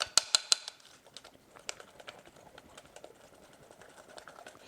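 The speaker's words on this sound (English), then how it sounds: "Want this to be nice and creamy, so you're going to whisk this pretty hard." A cinnamon bun mixture whisked hard by hand in a bowl, opening with a few sharp metallic clinks and then settling into quick, light, irregular tapping and scraping, close and fairly soft.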